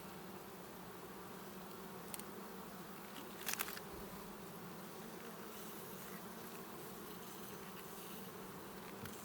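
A dense, continuous drone of many honey bees buzzing close by around an open hive during a frame inspection, steady throughout with a few brief knocks and rustles.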